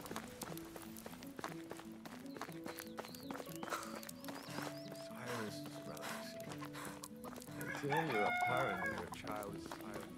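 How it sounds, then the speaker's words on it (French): Rooster crowing at evening in the Medieval Dynasty medieval village game, a faint call rising near the end over steady layered game music and ambient farm sounds. "Ah non, et c'est le soir le coq, là. On chante pas le soir."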